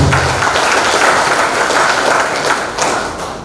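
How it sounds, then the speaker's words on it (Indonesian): A leadership seminar audience breaks into loud, dense applause, a continuous roar of many hands clapping together, with some thumps mixed in, tapering slightly toward the end. "Tepuk tangan untuk top leader kita Bapak Saul Simon"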